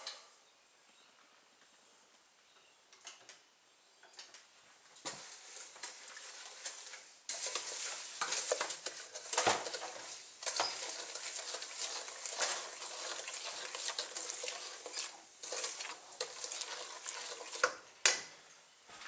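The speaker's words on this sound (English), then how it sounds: "You can see it's boiling fairly well. Just got to keep on stirring" Repeated scraping and clicking of a spoon stirring boiling passionfruit jam in a pot, irregular knocks and soft bubbling, close and steady, with no talking.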